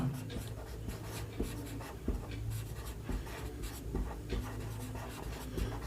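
A pen or chalk scratches across a surface during a class 10 statistics lesson, faint and close, in short irregular strokes with brief pauses between marks.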